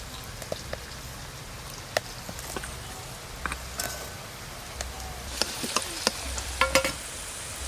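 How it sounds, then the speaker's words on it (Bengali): Potatoes fry in oil with a soft, steady sizzle and scattered sharp crackles and pops, faint and close, with occasional scraping of a spatula in the pan. "আলুগুলো তো লাল লাল করে ভাজা হয়ে গেল"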